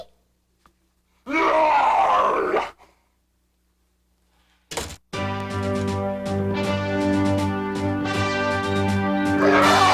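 A cartoon character lets out a loud, drawn-out roaring yawn that swells and fades over about a second and a half. It is followed by a short thump and then sustained music.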